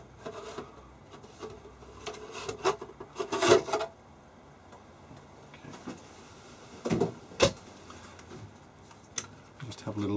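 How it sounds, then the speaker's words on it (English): Metal casing of a Fluke 8842A digital multimeter sliding off the chassis during a teardown, quiet rasping and rubbing scrapes close by with a few louder scraping bursts. "the casing should now slide off"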